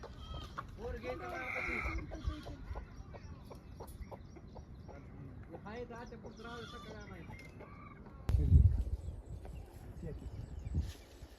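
Sheep bleat several times on a rural farm beside a drying soybean field, with rooster and hen calls mixed in, voices murmuring in the background, and a louder rustling burst near the end.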